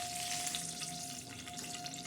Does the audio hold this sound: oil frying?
yes